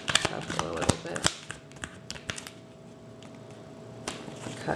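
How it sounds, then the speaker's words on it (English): Tarot cards shuffled in the hands, a run of quick crisp riffling snaps and flicks in short bursts, close and fairly loud, then a quieter stretch before a few more snaps. "Shuffle a little bit."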